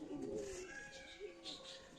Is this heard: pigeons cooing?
yes